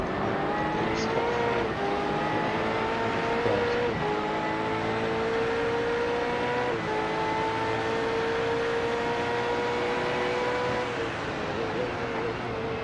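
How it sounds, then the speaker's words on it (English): V8 race cars in a racing simulation game at Okayama circuit roar continuously at high revs, engine tones climbing and dropping through gear changes as several cars run close together, loud and steady throughout. "How good do these new cars sound?"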